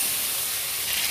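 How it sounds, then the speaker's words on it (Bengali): Marinated fish frying in hot oil gives a brief, steady, close hiss with no talking. "সুন্দর করে মাছগুলোকে আমি এখানে ভেজে নেব।"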